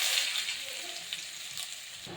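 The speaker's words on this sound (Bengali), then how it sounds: "জিরে তেজটা লাল হয়ে গেছে, আমি দিয়ে দিচ্ছি আলু।" Potatoes frying in oil that has gone red with cumin and chilli paste ground together on a grinding stone, a steady close sizzle with bright crackling that stays constant throughout, no voices.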